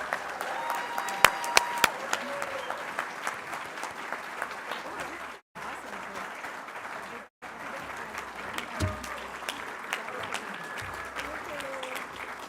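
A conference luncheon audience at a summit applauds a group of people, sustained crowd clapping with a few sharp nearby claps early on and some talk mixed in under the ovation.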